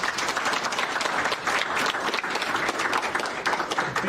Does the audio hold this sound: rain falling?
no